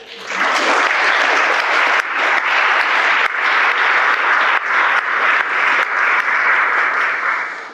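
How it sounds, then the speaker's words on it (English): Sustained applause from wedding guests honoring the couple's parents, a dense, steady clapping that stays loud and even for several seconds with no voices. "Please give all of them a round of applause."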